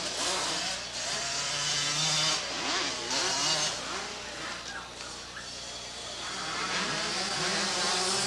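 Several 125cc modified ATVs race in an eight-lap amateur main event, their mid-pitched engines droning and revving together at a distance, rising and falling as they work around the track.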